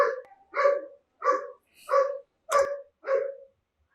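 A dog barks six times in an even, spaced rhythm, each bark loud, close and clear against a silent background.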